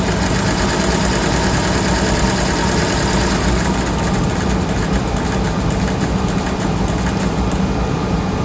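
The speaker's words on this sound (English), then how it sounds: "when I click large torque, the rotational of the motor will rotate fast" An electric motor driven under direct torque control and stepped to large torque, giving a loud continuous mechanical hum and whine with faint rapid high ticking toward the end, alone without talk.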